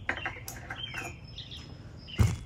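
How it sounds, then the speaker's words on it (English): Several short bird chirps and tweets ring out nearby amid quiet background, scattered and irregular, with a soft clink near the end. "I love the birds."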